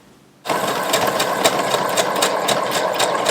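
A sewing machine stitches a lace tablecloth into a skirt, its motor starting abruptly and then running at a steady, close, fairly loud whir with a fast regular needle clatter and no talking.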